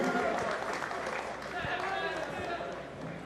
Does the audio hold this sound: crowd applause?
yes